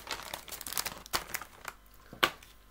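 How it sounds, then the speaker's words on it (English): A plastic bag holding a steamable chicken, veg and giant couscous meal crinkles and rustles close up while being cut open, with soft irregular crackles and a sharper snip near the end. "Let's cut into this bag."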